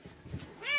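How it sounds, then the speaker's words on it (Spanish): A kitten lets out a short, thin meow that rises toward the end, faint and close, heard without talk. "solo vean a este gatito"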